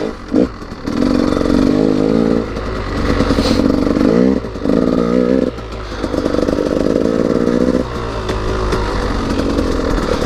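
A KTM EXC 200 two-stroke dirt bike rides along, its engine loud and close, rising and falling in sustained revving bursts with brief dips between throttle pulls.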